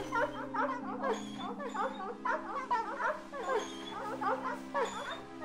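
Wolves in the video game Kingdoms of Amalur: Re-Reckoning barking and yipping in a steady, repeated chorus of short calls over a game soundtrack, several animals at once and fairly close.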